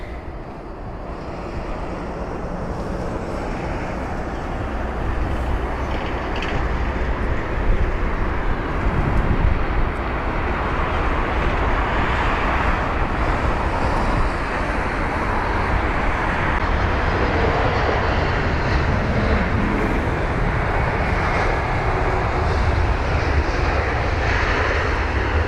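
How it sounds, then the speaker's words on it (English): A British Airways Airbus A380 airliner roars steadily at London Heathrow, a loud, continuous broadband jet rumble with wind buffeting that holds for the whole stretch without any talk. "watching this aircraft right here, the king of the skies, the British Airways A380"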